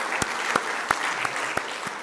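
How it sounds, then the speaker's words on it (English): Scattered, sparse clapping from an audience at a formal address, a few distinct claps spaced out over a couple of seconds rather than a full ovation. "I think you deserve a round of applause"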